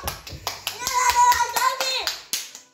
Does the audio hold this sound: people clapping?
yes